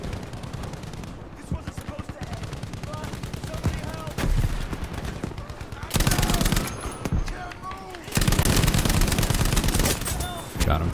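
Gunfire in the Battlefield V video game, rapid bursts of automatic machine-gun fire and scattered shots, loud and close, growing denser toward the end, with players talking over it.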